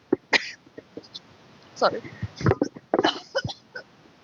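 A woman at a busy temple shrine coughs several times in short, harsh bursts, close to the microphone, with brief spoken words between the coughs.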